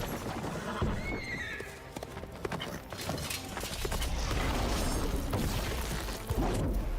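Horse in The Witcher 3 Blood and Wine whinnying near the start, then hooves clip-clopping steadily and fairly loud through the rest, mixed with game ambience and no talk.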